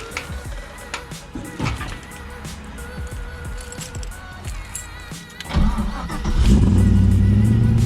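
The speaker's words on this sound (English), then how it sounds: "I'll give you guys a little canned cold start sound." An LS-swapped BMW E36 drift car with a Brian Tooley Racing DTR Stage 2 cam cold-starts after some clunks and rustling, then cranks, catches, and settles into a loud, lumpy, close idle.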